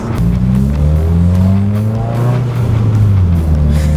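A tuned 2017 Subaru WRX running E85 revs loudly up and down, its deep intake growl rising and falling close by with no talking.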